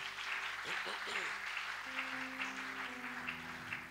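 A church congregation applauds at a family prayer service, the dense patter of clapping running throughout, with voices and some sung or sustained vocal tones mixed in.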